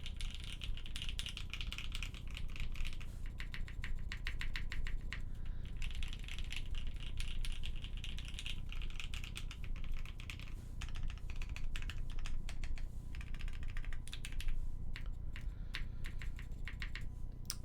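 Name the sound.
typing on a custom mechanical keyboard with C3 stabilizers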